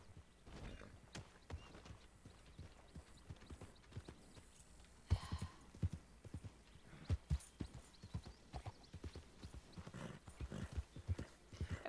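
Horse hooves clip-clop in an uneven, steady stream, close and fairly loud, with occasional heavier thuds and no talking.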